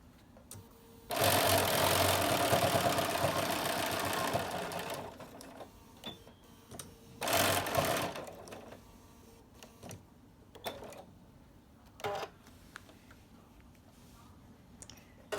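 A sewing machine stitching quilt binding runs in two sustained whirring bursts, a long one and then a shorter one, followed by scattered clicks and small mechanical taps as the work is adjusted.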